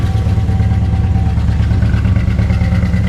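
A Dodge Dart engine with a carburetor issue idles steadily at about 1,000 RPM, a loud, continuous low rumble with an even pulsing throb and no voices over it.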